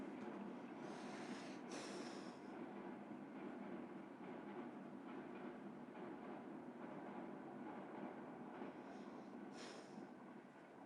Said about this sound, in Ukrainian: Якщо чуєте, там в мене за спиною десь проїжджає потяг, тож зачекаємо трошки.